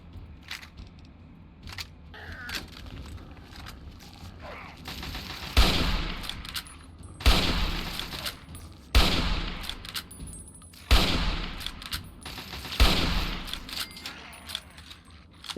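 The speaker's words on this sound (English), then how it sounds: "This might be my favorite gun in Fallout 3. I love the Chinese assault rifle." Chinese assault rifle fire in Fallout 3, heard as loud, near bursts of rapid automatic shots repeating every second or two, with quieter clicks and rustles in between.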